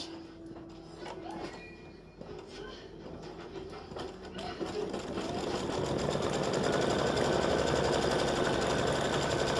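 An embroidery sewing machine stitching a mug rug design, its needle chattering in a fast, steady rhythm that starts light and grows louder and denser after a few seconds.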